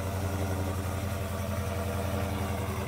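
A 2017 Dodge Hellcat V8 idles with a steady, deep rumble, close and continuous with no talk over it.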